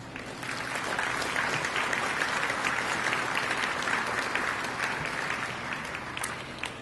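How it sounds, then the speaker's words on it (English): An audience at a workers' memorial ceremony applauds, a steady dense wash of many hands clapping that holds at an even level throughout and eases slightly at the end. "again, please applause."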